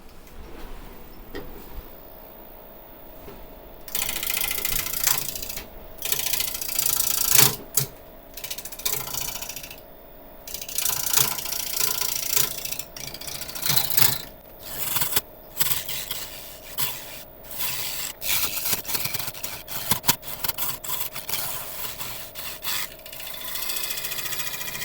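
A scraper cuts holm oak spinning on a wood lathe, producing a steady rasping, scraping hiss that surges and breaks off in irregular passes over a low motor hum, close and loud.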